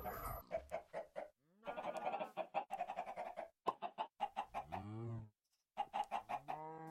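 Chickens cluck in the video game Minecraft, a near-continuous run of short, clipped clucks in quick bursts with brief pauses, fairly close, alongside a couple of squawking calls.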